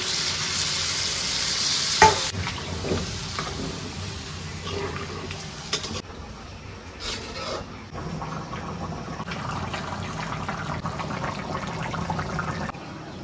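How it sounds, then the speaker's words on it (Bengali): Water poured into a sizzling potato and meat curry: loud frying crackle and stirring at first, then a sudden change as the liquid goes in, followed by softer bubbling and scraping with occasional faint background voices. "এখন আমি পানি দিয়ে দেবো, পানি দিয়ে দিলাম।"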